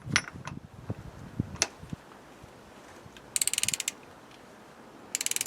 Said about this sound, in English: Now the last job is to tighten up the pulley.